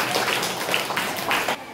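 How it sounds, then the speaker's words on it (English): A classroom of students claps for a classmate during an English speaking lesson, brief scattered handclaps that are fairly close and steady, then stop abruptly. "Everyone, clap for him."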